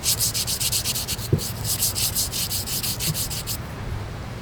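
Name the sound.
scrubbing inside AK-74 rifle receiver while cleaning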